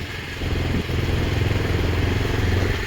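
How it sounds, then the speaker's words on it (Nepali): A motorcycle engine rumbles steadily and close by, a low continuous drone with slight fluctuations, as if riding along, above the Sapta Koshi river in eastern Nepal. "हामी बाइक राइडमा छौँ।"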